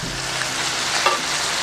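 Mushrooms fry in a hot pan for a home-cooked ansarap dish, giving a loud, dense, steady sizzle with faint stirring scrapes and no voices.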